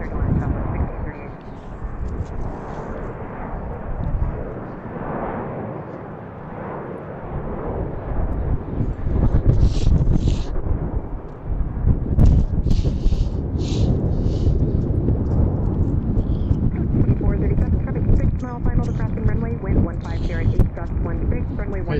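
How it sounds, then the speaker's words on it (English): Strong wind gusting across a microphone at Baltimore's BWI airport, a loud, rumbling roar that swells and holds for long stretches, with a voice talking over it at times. "Nice gust of wind"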